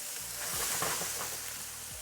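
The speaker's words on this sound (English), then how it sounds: "You hear that sizzle?" Butternut squash browns in a pot, giving a soft, steady sizzle with faint crackles and a few low scraping or stirring sounds.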